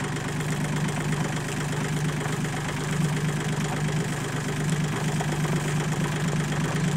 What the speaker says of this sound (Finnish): Tää lähti paremmin käyntiin kuin Mikon Volkari.